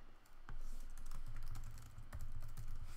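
Steady typing on a computer keyboard as code is written, a continuous patter of close, soft key clicks with a few brief pauses.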